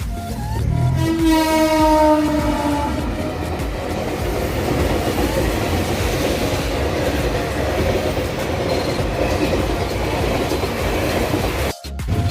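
A train rolls past a railway crossing, loud and close, with a horn blast at the start followed by a long steady rumble and rhythmic clatter of wheels on rails.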